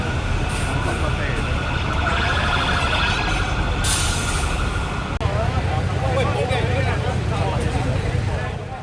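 An ambulance siren wails continuously at a bus rear-end crash on a busy road beside a metro station, loud with heavy traffic rumble and a voice talking over the scene.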